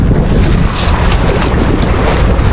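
Strong wind roars steadily across an open fishing boat out on the water at Lagusan during net fishing, a dense continuous rush of gusting air and hull noise with no voices.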